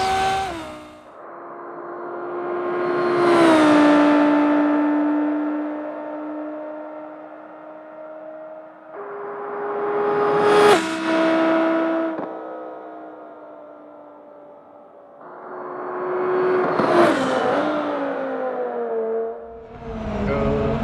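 Simulated car engine in BeamNG.drive revving hard and drifting through tunnels, with three loud rising-and-falling surges, steady high harmonic drone between them and bursts of screech at each peak.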